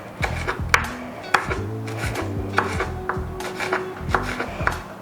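A knife chops pili chillies on a board in quick, close, irregular strokes, each cut a crisp knock, with faint pan and utensil clatter between.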